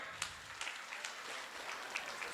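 Audience applause at a Shrimad Bhagavat Katha closing ceremony in Samana, Patiala, Punjab: soft, distant scattered clapping for a couple of seconds, faint and steady.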